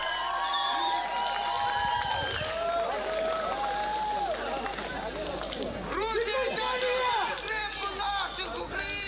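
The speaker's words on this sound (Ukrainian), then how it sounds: "Ваші овації!" Crowd at an army MMA event in a fight hall, a dense, steady roar of cheering and chatter with whistles and shouts rising and falling, loud and continuous throughout.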